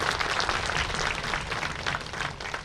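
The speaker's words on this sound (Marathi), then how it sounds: "आपण त्यांचं टाळ्या वाजून अभिनंदन करूया." An audience at a school admission festival at a residential school in Toranmal, Dhadgaon, applauds the school staff with a continuous wash of clapping, fairly distant and even throughout.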